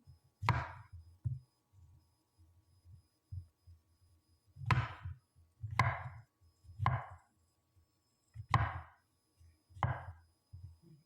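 Vegetables for a stir fry are chopped on a cutting board, with about six sharp knife strikes spaced irregularly and softer taps between them, close and quiet, with no talking.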